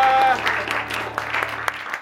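Brief applause from a studio audience at a football talk show rises over a voice and fades within a couple of seconds.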